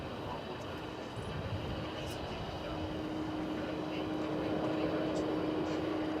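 A UPS cargo plane takes off at DFW Airport, its engine roar steady and rising slightly across the clip, heard from a distance with faint voice in the background.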